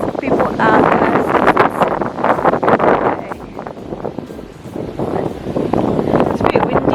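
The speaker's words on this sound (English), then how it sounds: "It's a bit windy and cool" Wind blowing outdoors in Melbourne on a cool day, a steady rushing buffet across the microphone underneath continuous close talking.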